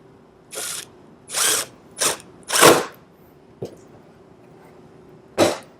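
Power driver sinking a screw into a pilot hole in a wooden bee house, several short whirring bursts of uneven length with pauses between, close by.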